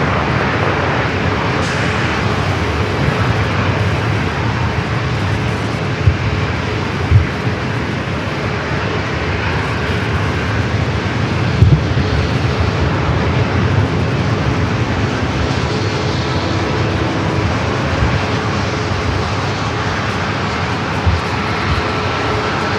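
An airliner bound for SFO rumbles steadily overhead as it heads for runway 27, a loud, sustained jet roar that continues without a break and with no voices.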